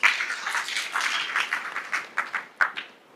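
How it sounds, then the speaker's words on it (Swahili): An audience at a public security forum in Murang'a County applauds the Inspector General, scattered clapping that swells and then thins into a few final claps, moderately close. "Pigia ni makofi IG."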